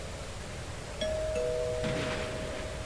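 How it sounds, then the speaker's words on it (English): A video game doorbell chimes twice in a horror game set during a storm-night power outage: two bright electronic ding tones, the second slightly lower, ring out over a steady low ambient hum, with no talking. "The doorbell again."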